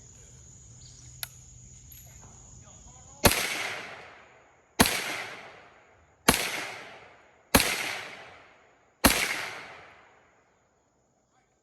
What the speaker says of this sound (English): So this M1 carbine from RTI seemed to fire pretty well